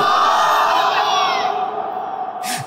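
A large crowd at an outdoor Bangla religious sermon roars back a takbir chant in unison, a loud sustained collective shout that fades after a couple of seconds, with a brief sharp noise near the end.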